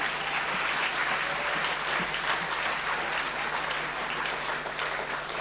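Sustained, full-room applause at a football and netball league medal awards night, with a crowd clapping steadily and evenly for a medalist.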